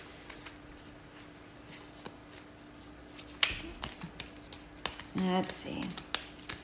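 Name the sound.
tarot cards being shuffled and handled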